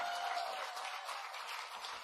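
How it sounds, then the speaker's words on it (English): A crowd applauds for Governor Michelle Lujan Grisham at a presidential event in New Mexico, a steady, dense clapping across a large room with no voice over it. "That deserves a round of applause."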